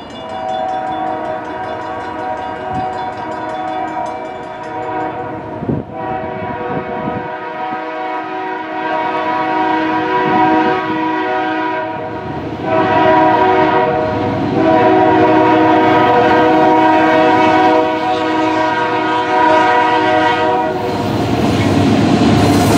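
A K3H/K3L three-chime locomotive air horn sounds one long sustained blast, loud and near, its chord swelling as it goes, over the rumble and clatter of a passing train.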